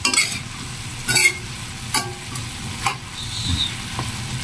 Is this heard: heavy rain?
no